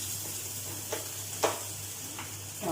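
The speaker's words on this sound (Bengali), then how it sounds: "রসুনটা দিয়ে দেবো।" Garlic sizzling in a pan while homemade pizza sauce is being cooked. It gives a faint, steady hiss with a few soft clicks and stirring scrapes, and no one speaks.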